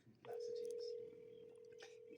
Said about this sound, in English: it'll just ring and ring and ring and ring unless they unblocked it.